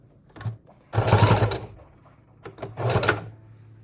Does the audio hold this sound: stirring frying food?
no